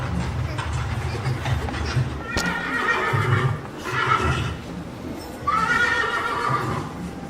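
A horse at a medieval festival whinnies in several loud bursts over a busy crowd murmur and low rumble, with faint voices in the background.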